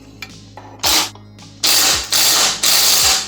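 A ratchet turns a 10 mm bolt on a GSXR 1000 motorcycle, giving loud, close clicking bursts: a short first run, then three longer ratcheting spells.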